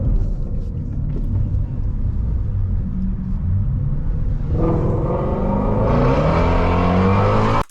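An American muscle car's engine rumbles at a deep idle, then revs up sharply with a loud, throaty roar close by.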